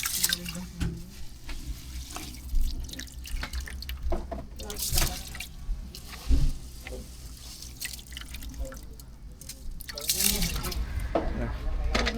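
Measured water for rice is poured into a pressure cooker on a fishing boat, with splashing, dripping water and clattering in uneven bursts while people talk over it.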